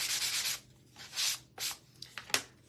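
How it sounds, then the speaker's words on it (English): Sandpaper lightly rubs painted wooden snowman noses, a series of short dry scratchy strokes, close and quiet, in uneven bursts with brief pauses between them. "just gonna take my sandpaper and lightly"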